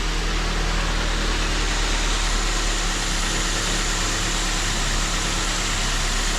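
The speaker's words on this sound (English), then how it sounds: "So we're gonna start the vehicle" A 2006 Ford Focus ZX4 engine idles steadily and loudly up close, a constant broadband drone with low rumble and no clear start-up, no voices over it.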